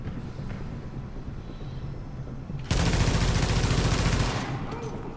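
Burst of rapid automatic gunfire in the video game The Division, loud and sustained for about a second and a half after a stretch of quieter background game noise, then fading into ambient rumble.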